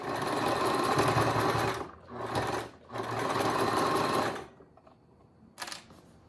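A sewing machine stitches fabric in long, loud, steady runs that pause briefly between them, then stop, with a short final burst near the end.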